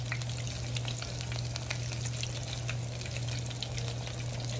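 Beer-battered Cajun onion rings fry steadily in hot oil, a dense, continuous bubbling sizzle with crackling pops, close and loud, with no talking.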